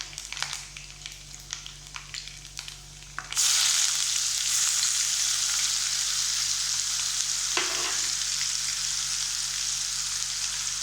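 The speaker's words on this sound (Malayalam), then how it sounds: "ഇതിലേക്ക് നമുക്ക് ജിഞ്ചർ ഗാർലിക് പേസ്റ്റ് ആഡ് ചെയ്ത് കൊടുക്കാം." Ginger garlic paste hits hot oil with browned onions for Kerala-style beef varattu. A few quiet clinks come first, then a loud, steady close-up sizzle bursts in and holds to the end, with no talking.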